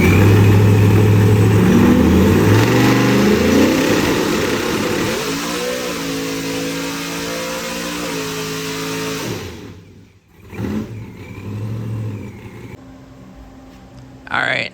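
A carbureted big block engine rated at over 1400 hp revs on a dyno and climbs through the gears in loud, rising sweeps. The pitch drops at each shift, the sound cuts out sharply near the end, and then a brief burst of revving returns.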